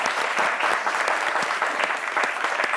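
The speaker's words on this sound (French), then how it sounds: "Merci de l'applaudir bien fort, s'il vous plaît." Audience applause on the set of a French-language TV talk show, a dense, steady wash of many hands clapping at close range with no voices.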